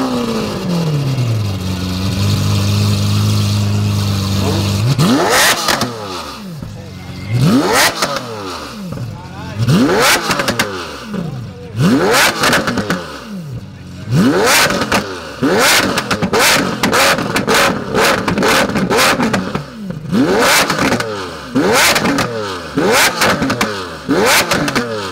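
Car engine at a car meet, revved repeatedly on a cold start: a low idle gives way to a long series of sharp, loud rev bursts rising and falling close by, with people talking around it.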